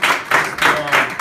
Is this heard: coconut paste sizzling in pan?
no